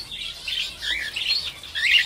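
A Bengalese finch gives a run of thin, high chirps and short twittering calls, close and fairly clear, in several quick bursts with brief gaps between.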